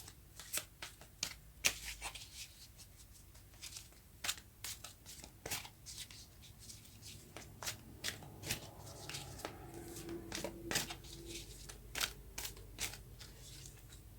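Oracle cards are shuffled during a tarot reading, making a steady, soft riffle and flutter of many quick card snaps at close range with no voice over it.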